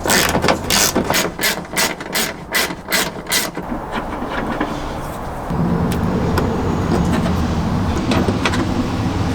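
A ratchet clicks rapidly in short bursts while bolts are loosened from the bumper of a 2022-or-later Subaru BRZ/Toyota GR86, then a steadier mechanical whir follows, close and clear with no voices.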